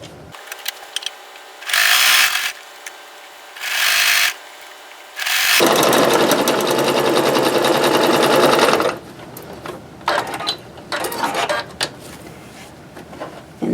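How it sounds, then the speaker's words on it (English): A sewing machine runs in three short bursts and then one longer steady stretch while sewing a quilt seam, followed by quieter handling clicks and rustles nearby. "we're just going to take it to the machine, sew one more seam just to close up all those raw edges"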